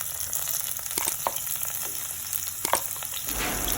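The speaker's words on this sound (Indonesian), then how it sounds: "kita tambahkan minyak ke dalam wajan untuk menumis dulu bumbu-bumbunya ya guys" Spices are sautéed in oil in a wok, with a continuous close sizzle and a few sharp clicks and scrapes of stirring.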